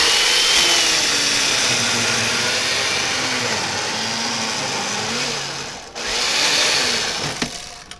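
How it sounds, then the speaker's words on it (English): A chainsaw mortiser attachment whines and buzzes steadily through wood for several seconds, cutting a hole, dips briefly, then revs again before cutting off with a couple of clicks. "like a chainsaw attachment that cuts your hole for you"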